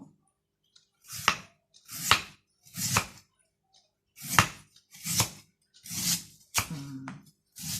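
A knife cuts raw bamboo shoots into thin slices, giving about eight crisp, separate chops in a steady rhythm, each a sharp crunch against a board, close up and alone.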